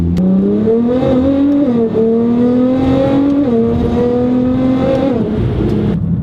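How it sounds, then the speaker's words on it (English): A heavily modified car making over 600 wheel horsepower, fitted with a Cobb SF air intake, a tune and an E85 flex fuel kit, drones loudly and steadily, its engine pitch stepping up and down in gear-like shifts, heard close with no talk. "it makes a little over 600 wheel horsepower, and it is very, very loud"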